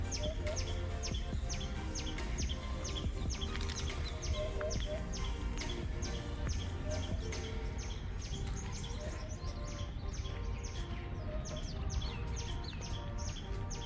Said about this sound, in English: You think that's a bird?